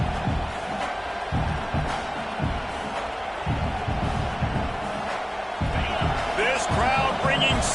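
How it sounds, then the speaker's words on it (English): A football stadium crowd roars for a fourth-down play against UCLA, a dense sustained wall of cheering with scattered shouts, loud throughout and swelling near the end. "Crowd bringing serious noise on this huge fourth down play"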